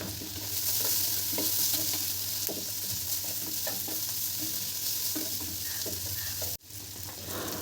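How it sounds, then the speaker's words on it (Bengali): Potatoes with turmeric and salt frying in a pan, giving a steady soft sizzle and intermittent scraping stir strokes from a utensil, close up with no voices, then a sudden brief dropout near the end. "আলুটা আমার অনেকটাই ভাজা হয়ে গিয়েছে"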